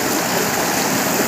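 Water rushes along a hand-dug irrigation channel beside the JaiShree River in Nepal, a steady, close, full-bodied flowing hiss with no speech.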